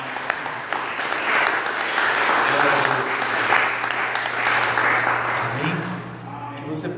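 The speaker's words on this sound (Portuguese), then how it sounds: "Vamos aplaudir Jesus." A church congregation claps together in steady, sustained applause, a broad wash of hands that continues for several seconds before tapering off, with voices faintly underneath.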